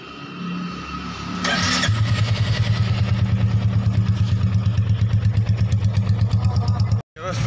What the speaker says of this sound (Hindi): अभी मैं लगा रहा हूँ बुलेट को, अभी स्टार्ट कर रहा हूँ